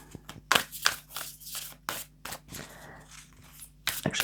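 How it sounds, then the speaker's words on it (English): A deck of oracle cards is shuffled by hand several times, giving a series of short crisp riffles and slaps with brief pauses between them, close and fairly quiet. "We'll just shuffle this deck a couple of times."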